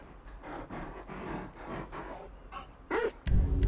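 Chop the dog whimpering and yipping in Grand Theft Auto V, a series of short soft canine whines close up over game background noise, ending in a louder burst of game sound.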